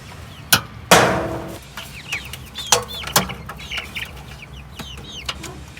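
Chickens clucking softly in a coop or brooder, scattered close murmurs and short calls with a few sharp knocks and bumps, no talking.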